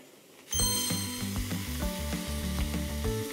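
Duck meat searing in a hot pan for soba broth, a sudden loud sizzle that starts abruptly and then crackles steadily up close, with no voices.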